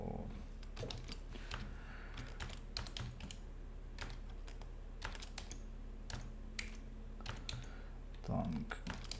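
Rapid clicking of computer keyboard keys in bursts of irregular typing, close and fairly clear, while setting up a custom game, with a low steady hum underneath and a brief voice near the end.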